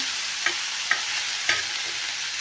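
Onion sautéing in a pan for chutney: a constant close sizzle broken by three sharp spatula taps against the pan, no talking.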